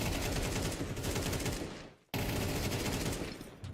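Sustained automatic rifle spray in Counter-Strike 2 during an EWC 2026 Spirit vs LG match, dense rapid shots filling most of the clip, a brief gap near the middle, then another long burst, loud and close with no talk.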